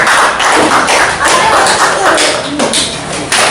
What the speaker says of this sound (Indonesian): tepuk tangan untuk saya dulu